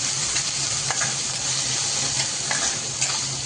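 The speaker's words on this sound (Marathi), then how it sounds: "कांद्याला चांगला परतून घ्यायचा" Onions sautéing in a pan after garlic for a chavali bean dish, a steady close sizzle with occasional soft stirring scrapes throughout.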